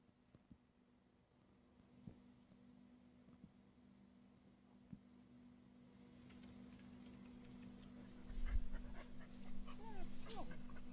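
A dog sniffs and pants at a scent-treated outdoor advertising poster, with quiet, close breathing and short sniffs that grow louder and busier in the second half over a steady low hum.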